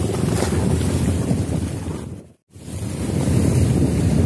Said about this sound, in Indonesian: Ini pantainya lagi pasang, airnya lagi penuh.